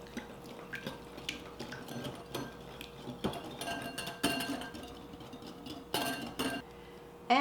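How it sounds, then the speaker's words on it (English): Whisking BBQ sauce ingredients in a bowl: a steady run of close metallic clinks and taps of the whisk against the bowl, with irregular louder knocks and a wet swishing underneath. "Then we're going to whisk this together."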